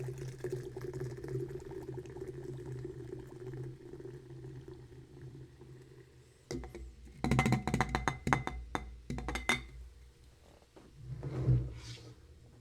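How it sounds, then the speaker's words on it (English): Bucked Up Strawberry Kiwi drink is poured into a sip glass, a fizzy, bubbling stream that starts after a steady hiss, with splashy bursts and a final gurgle, close and moderate. "let's open up this drink, pour this into the new and improved sip glass"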